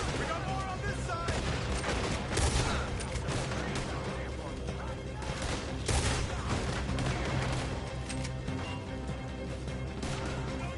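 A heavy gunfight in the video game Red Dead Redemption II, with dense, continuous overlapping gunshots and crashes under shouting voices throughout.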